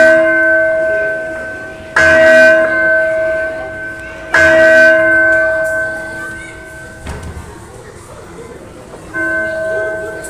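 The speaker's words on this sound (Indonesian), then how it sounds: "Malam hari, lonceng berdentang sekitar 50 kali." A large bell tolls in slow, measured strokes, each ringing tone swelling sharply and then lingering with a long, humming decay; several strikes are spread across the stretch, loud and close, with some quieter low rumbling in the gaps.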